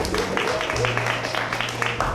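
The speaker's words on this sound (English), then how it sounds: "Please give Tag DMV a round of applause." Audience at a community event applauding for an honoree, a steady field of clapping hands at moderate distance, with a few voices mixed in.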